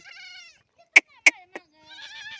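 Several short, loud sheep bleats in a quick sequence, with quieter high-pitched calls and a softer voice-like sound before and after them.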